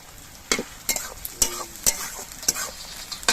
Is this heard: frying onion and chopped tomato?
yes